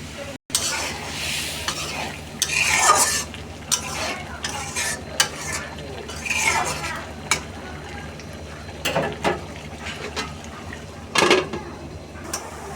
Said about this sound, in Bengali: মাছ এবার মাছগুলো কষায় নেব